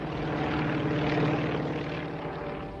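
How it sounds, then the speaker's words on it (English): Propeller-driven dive bomber engines drone steadily overhead, a loud continuous roar holding even through the whole stretch with no voices. "Those dive bombers up there have almost burned up an hour's fuel."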